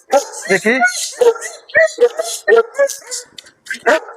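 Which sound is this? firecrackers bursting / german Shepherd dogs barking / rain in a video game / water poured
german Shepherd dogs barking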